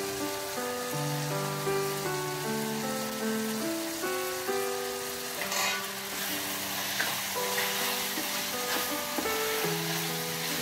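Boiled chicken sautés in a pan for a bottle gourd chicken gravy, a steady, continuous sizzle running under background music, with a few soft stirring bumps.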